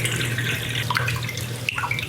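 Brown rice is swished and rinsed in a bowl of water under a running tap, with close, steady splashing and trickling and a few brief sloshes.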